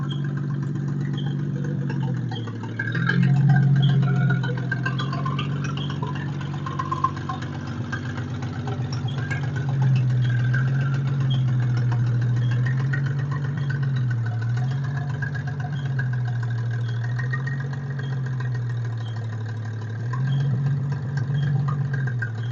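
A 1946 International truck, driven again after sitting for decades, rumbles along at low speed with a steady loud engine drone whose pitch swells and dips as it moves under a tree.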